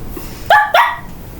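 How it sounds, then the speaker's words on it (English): A small dog gives two quick, close, high-pitched yips in a row against a quiet background. "That sounds like a little dog."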